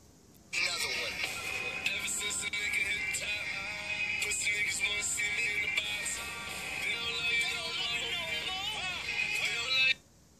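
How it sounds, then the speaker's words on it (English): A custom ringtone plays from a Samsung Gear 2 smartwatch paired with a Note 3, a bright melodic tune that runs steadily for about nine seconds before stopping abruptly. "There's your custom ringtone"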